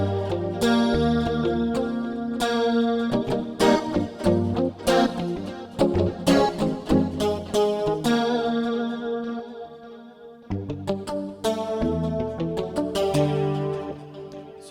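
Stratocaster guitar sound layered with a Super Pick sound played from an Akai MPC, rhythmic plucked chords with effects, loud and alone, with a brief pause before resuming.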